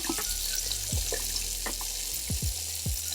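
A kitchen tap runs a steady close stream of water while hands are wet for sourdough stretch and fold, with a few soft knocks and handling sounds over the hiss.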